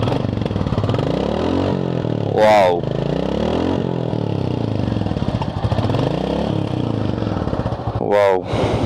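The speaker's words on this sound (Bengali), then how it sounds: "তো বাইকটা যদি একটু সাউন্ডটা আপনাদেরকে শোনাই" A 2025 Royal Enfield Bullet 350 motorcycle engine runs close by with a deep, even thumping idle, rising in two sharp revs, with a man's brief exclamation heard over it.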